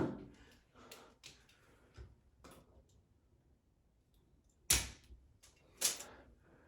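Electrical wire is cut with cutters near a ceiling light fitting, giving two sharp, crisp snips after several softer ticks and clicks of handling, close and otherwise quiet.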